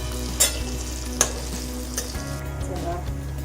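Methi vadi pieces shallow frying in a pan, a soft steady sizzle with a few sharp clinks of a utensil against the pan.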